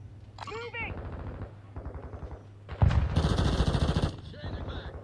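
Gunfire in Call of Duty Modern Warfare II with the LA-B 330 rifle, loud rapid bursts of shots and impacts amid game effects, mixed with voices and a low droning background.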